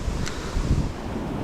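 Big sea waves roll in at a beach where someone is casting from shore, a constant low rumbling wash mixed with heavy wind buffeting the microphone, with no talk.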